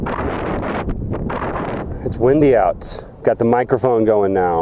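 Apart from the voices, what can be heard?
wind blowing on sand dune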